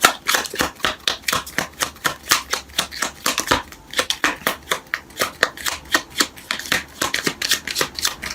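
Tarot cards riffle and snap in rapid repeated bursts, a steady crisp shuffling rhythm close to the mic, with no voices.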